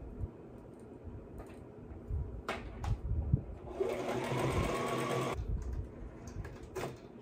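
A sewing machine stitches fabric for a maxi dress in short bursts, then runs in one loud, steady whir for about two seconds before slowing, with the fabric shuffled between runs.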